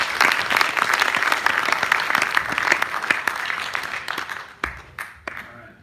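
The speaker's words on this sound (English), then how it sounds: "If you can please give him a round of applause." A convention audience at a live event gives a loud round of applause, dense clapping that runs steadily before thinning into scattered separate claps near the end.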